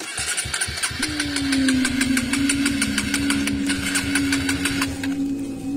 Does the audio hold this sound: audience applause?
no